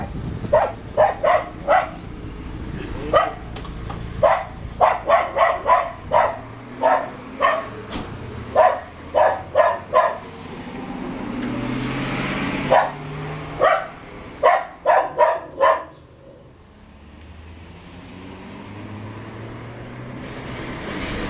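A dog barks repeatedly and loudly nearby, in quick clusters of sharp barks separated by short pauses, with traffic-like rumble underneath and a quieter stretch near the end.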